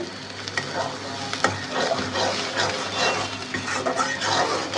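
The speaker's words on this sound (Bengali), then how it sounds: "সুন্দর করে ভাজা ভাজা করছি।" Fish roe frying in a pan, an uneven sizzle with scraping and light knocks as it is stirred, close up and fairly quiet.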